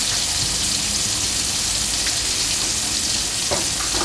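Tilapia deep frying in plenty of hot oil, making a loud, close, continuous crackling sizzle like heavy rain. A few sharper pops break through near the end, and no one speaks.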